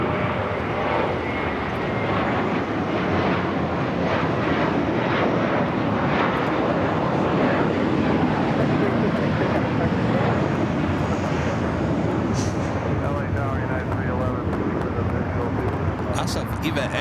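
A China Cargo Airlines Boeing 777 freighter at LAX, bound for Shanghai and lining up for runway 25 right, makes a loud, steady jet roar while a voice talks over it throughout.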